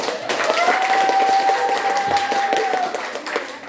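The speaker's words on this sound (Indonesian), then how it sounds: "Tepuk tangan dulu." Steady crowd applause fills a school quiz-competition semi-final hall for several seconds, dense and fairly loud, with a thin sustained tone running through the clapping.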